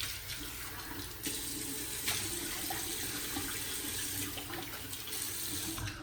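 Water runs steadily from a bathroom tap into a sink while a freshly shaved face is rinsed, a constant close splashing hiss with small surges of spatter, no talking.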